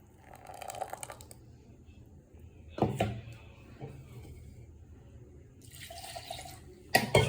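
Milk poured into a special drink made with fruit and ground cashew, heard as intermittent liquid splashing and trickling in short bursts, close and moderately loud.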